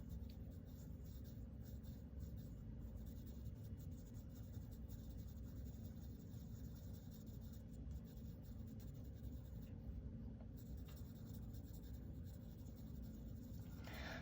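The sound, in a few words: pencil shading on paper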